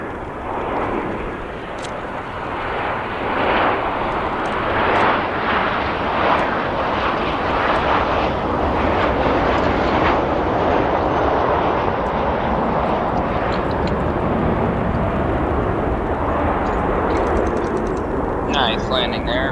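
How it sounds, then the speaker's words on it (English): An Amazon Air Boeing 737-800 operated by Atlas Air lands at O'Hare, its loud broad engine roar filling the whole stretch with a steady, rushing wash that tails off slightly near the end. "Nice landing there for that 737, operated by Atlas Air."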